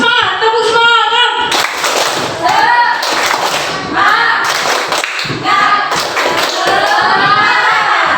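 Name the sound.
audience doing a rhythmic spirit clap (tepuk semangat)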